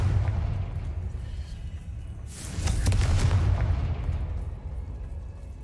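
A Confringo fire spell bursts in the PC game Hogwarts Legacy: one loud, broad blast erupts midway and decays over about a second, set against a steady low rumble of game ambience.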